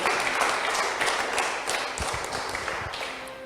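A church congregation applauds loudly during a sermon, dense clapping running throughout with a few sharper individual claps near the middle.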